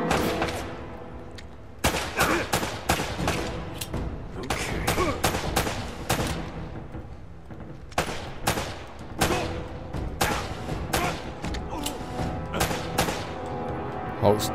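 Rapid bursts and single shots of video-game gunfire in Uncharted: Drake's Fortune, a customs house shootout, crackle loud and close in repeated volleys across the whole stretch, with talking mixed in.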